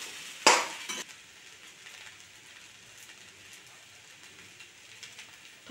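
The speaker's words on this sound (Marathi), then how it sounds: "परत एकदा मिश्रण व्यवस्थित एकत्र करून परतून घेते" Sabudana khichdi mixture, soaked in buttermilk and seasoned with salt and chilli, sautéed in a pan: a brief loud scrape and stir near the start, then a faint, steady sizzle running underneath.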